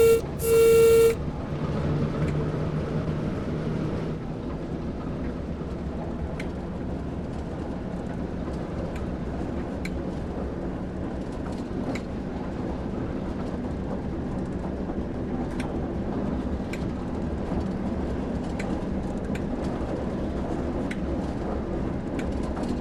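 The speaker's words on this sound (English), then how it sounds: "Increase the throttle to start moving." Electric locomotive on the Great Western Express route in Train Sim World 3 pulling away: a short horn toot at the start, then a steady low rumble with faint intermittent clicks and knocks.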